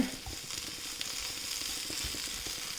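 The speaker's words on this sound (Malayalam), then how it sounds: "നല്ല രീതിയിൽ അധികം എണ്ണയില്ലാതെ തന്നെ ഇങ്ങനെ ഫ്രൈ ആയിട്ട് വരണം" Bitter gourd frying in a pan with little oil, a steady close crackling sizzle with no pauses and no voices.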